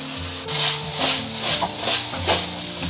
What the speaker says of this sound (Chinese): 接着我们把胡萝卜丁跟玉米还有大米给它放上去，给它翻炒均匀